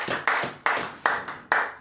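A church congregation claps together in acclamation, sharp rhythmic bursts landing about every half second, each ringing briefly before the next, with no voices over them.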